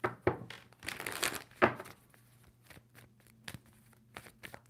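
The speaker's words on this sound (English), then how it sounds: "2 more shuffles for Libra." A tarot card deck is shuffled up close, with soft papery riffles, crinkles and light thunks in a few quick bursts, then fainter scattered card taps; quiet overall with no talk.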